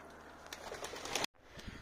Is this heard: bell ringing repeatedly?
no